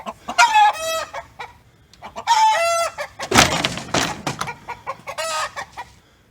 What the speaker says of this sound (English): There's a chicken coop.